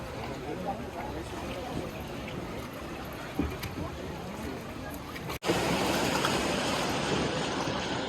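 An infinity-edge water flume ride at Monte Igueldo amusement park rumbles and rushes with continuous water and track noise, a sudden jolt partway through, then a louder surge of splashing flow.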